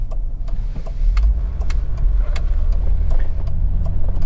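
A 2002 Ford Windstar van drives along with a steady, loud engine drone and low road rumble throughout, no talking.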